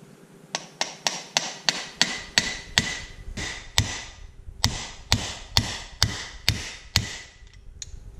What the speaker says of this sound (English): So I'm gonna set it in there like so, and we'll drive this on in